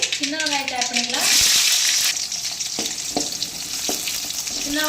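Small onions dropped into hot oil with crackling mustard seeds, a sharp burst of sizzling followed by steady frying and a few stirring clinks, with a voice heard briefly at the start.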